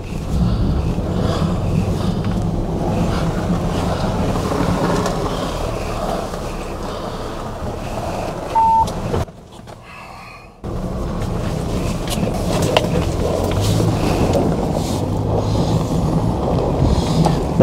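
Ford Bronco with a 7-speed manual transmission crawling along a trail in low crawler gear, a steady broadband engine and drivetrain rumble with wind and rolling noise, briefly dropping away for about a second midway before resuming.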